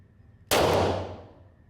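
A single handgun shot cracks at a shooting range, close and loud, with a sharp onset and a reverberant tail that fades over about a second.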